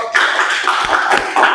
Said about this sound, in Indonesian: saya kasih aplaus, tepuk tangan untuk